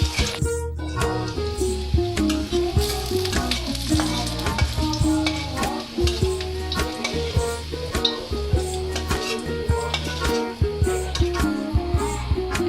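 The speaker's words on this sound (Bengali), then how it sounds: "আবার কিছুক্ষণ ভেজে নেব" Hot oil sizzling in a pan as ingredients for a chanda fish bharta are fried and stirred, a loud steady crackle broken by frequent metallic scrapes and taps of the spatula, close up.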